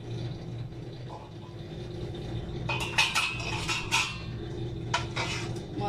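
Daal served from a cooking pot into a dish: a run of clinking metal scrapes and taps of a spoon against the pot and dish, over a steady low background hum.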